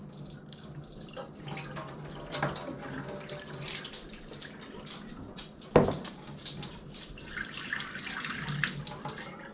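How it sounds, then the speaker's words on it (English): Tap water runs steadily over a rusty can being rinsed clean, a continuous close splashing stream with one sharp clank partway through and shifting spatter as the can is turned. "I'm going to rinse it off with water, but I'm also going to rinse it off with some baking soda water."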